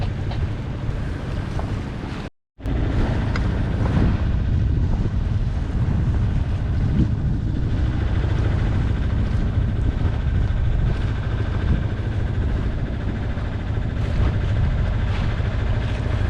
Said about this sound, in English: So we're now going down the River Tyne on engine.